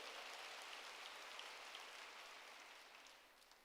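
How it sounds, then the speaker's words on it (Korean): A church congregation applauds together in a steady, dense wash of clapping that fills the room and stays loud, then eases off slightly toward the end, with no voices over it. "박수로 하나님께 영광 돌리라"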